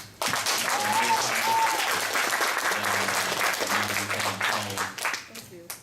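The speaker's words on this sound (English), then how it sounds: "thank you clap." An audience gives a sustained round of applause at a company gathering, steady and fairly close, with voices heard through the clapping and a tapering at the end.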